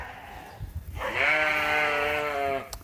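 A ewe bleats once in a long, steady, clearly harmonic call lasting over a second, close and loud against a quiet farm background after a few faint rustles.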